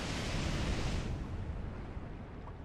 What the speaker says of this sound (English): And you release the water.